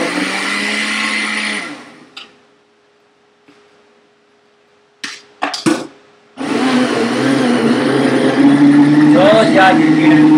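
A blender packed full of greens for a smoothie whirs loudly, drops to near silence with a few clunks and short bursts, then roars back at full power grinding steadily.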